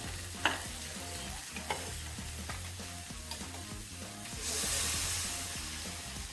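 Water goes into a hot pan of braising young pigeon meat. Several quiet stirring scrapes come first, then a sudden loud, rushing hiss of steam that lasts to the end.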